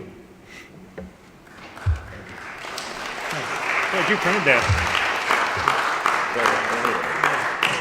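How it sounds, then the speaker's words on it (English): Church congregation applauding during a Sunday worship service, the clapping swelling from scattered claps into sustained, fairly loud applause, with a person speaking briefly near the start. "I know you all clapped"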